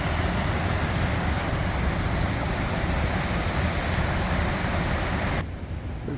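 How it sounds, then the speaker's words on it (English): A small mini waterfall in an outdoor wooded area runs as a steady, dense rush of water, constant and fairly loud throughout before dropping off abruptly near the end, with no voices. "Love the sound of running water."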